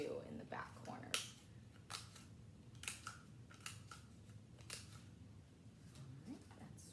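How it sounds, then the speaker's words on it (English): Scissors snip through paper while building a Taj Mahal paper craft, a series of short sharp cuts spaced irregularly, quiet and close, with a low background murmur. "I'll cut this one while I have my scissors in my hand."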